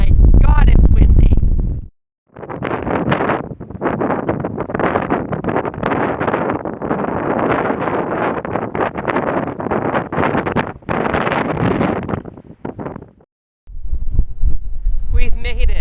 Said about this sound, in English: oh my god, it's windy!